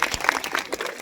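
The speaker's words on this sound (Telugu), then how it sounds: "సో కొంచెం గట్టిగా చప్పట్లు కొడితే వాళ్ళు ఇంకా ముందుకు వెళ్తారు." An audience claps for young children after their first Kuchipudi dance performance, giving a brief burst of close, dense applause.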